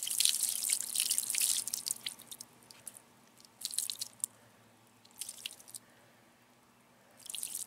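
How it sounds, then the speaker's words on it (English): Water splashes and drips while rinsing ketchup off a Nike shoe: bursts of close, hissy spattering separated by short quiet gaps, with no talking. "I'm gonna go ahead and see if I can get the rest of it off with some water."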